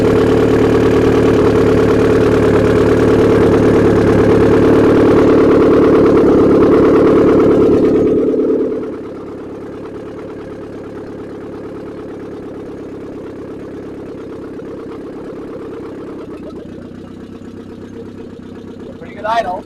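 A carburetted turbo B6D engine idles loudly and steadily, close up, for about eight seconds, then the level drops sharply to a much quieter, lower hum that runs to the end.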